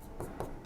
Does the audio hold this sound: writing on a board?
yes